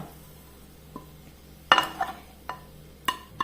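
Fried eggs being lifted from a kadai onto a plate make a few scattered metallic clinks and scrapes, close and fairly soft, with quiet gaps between the knocks.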